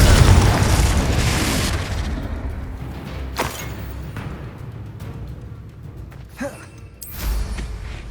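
A Confringo fire spell blast in the Hogwarts Legacy video game on PS5: a loud, deep booming explosion opens and rumbles away, followed by creaking debris, a few smaller pops and thuds, and a later lighter burst.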